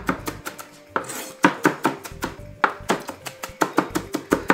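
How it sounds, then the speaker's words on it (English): Vegetables chopped with a knife on a cutting board at a slight angle, a rapid irregular series of crisp close thuds and knocks, no speech. "I like to chop at a slight angle to sort of keep it from popping all over the place."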